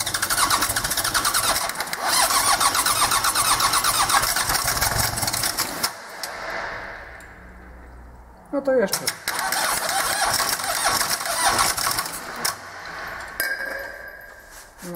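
Freshly overhauled diesel engine sitting on a pallet before installation, glow plugs disconnected, cranking hard and catching into a rough, loud running clatter, briefly dropping away and then restarting; someone speaks over it.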